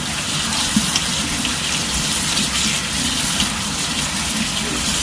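A kitchen tap runs in a steady, full gush while bitter melon is rinsed under it, the water splashing continuously and close by for the whole stretch.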